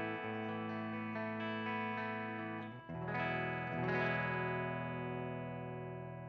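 Clean electric guitar played straight into a Mesa Boogie Mark V head with no pedal, sustained chords ringing out clearly, one fresh strum near the middle, then the chord is left to decay, alone with no talking.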